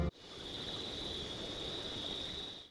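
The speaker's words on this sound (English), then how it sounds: "You hear those crickets." Steady crickets chirp without pause, a sustained high trill in the ambient night soundscape of Minecraft with the Dynamic Surroundings mod, fairly faint and alone, with no voices.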